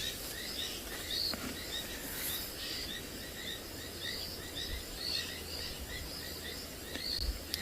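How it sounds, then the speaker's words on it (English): Frogs call continuously at a South African safari site in the afternoon, a dense outdoor chorus of repeated chirping trills mixed with insects and distant birds, steady and moderately faint with no talking. "There's really a lot of frogs calling."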